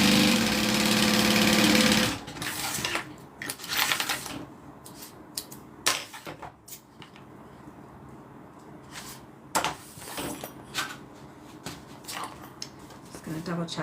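A sewing machine stitches a leather zip-around wallet in a loud, fast, continuous whir for about two seconds, then stops. Scattered clicks and handling noises follow while a person talks.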